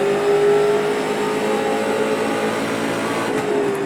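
A 1963-style street stock car in iRacing, at USA International Speedway, accelerates out of a corner, its engine a steady, loud, close drone with a sustained tone that holds for the whole stretch, with no talk.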